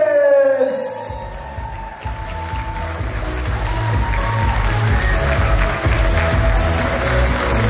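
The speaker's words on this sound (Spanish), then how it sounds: "Fuerte, fuerte, fuerte los aplausos!" Applause and cheering from guests for the junior bridesmaid at a Mexican wedding celebration with chinelos, a sustained crowd roar over a steady low musical beat.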